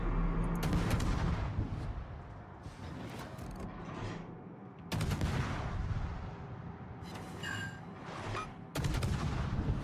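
Warship guns fire in the naval game World of Warships, several heavy booming salvos spaced a few seconds apart, each followed by a long rumbling decay with mechanical clatter in between.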